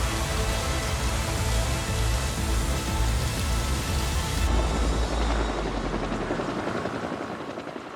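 A firefighting helicopter fighting a wildfire roars loudly overhead, its rotor thudding steadily before the sound thins and fades slightly as it moves away.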